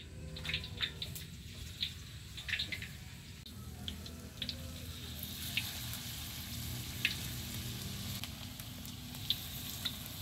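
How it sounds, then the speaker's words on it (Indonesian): Bakwan vegetable fritters fry in hot oil with a steady sizzle and scattered crackles and pops, in a village kitchen cooking for the evening fast-breaking meal; nobody speaks. "sekarang lanjut lagi menggoreng gorengan bakwan bareng semuanya ya"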